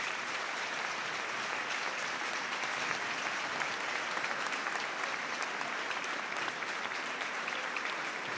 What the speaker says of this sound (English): The crowd are applauding as Alex Greenwood is put on the stretcher.